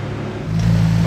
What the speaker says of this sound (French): Elle fait un bon bruit cette GT3 RS.